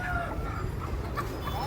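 Roosters cluck and call at a busy chicken market in Machilipatnam, close and fairly loud over a bed of crowd noise, while people talk nearby.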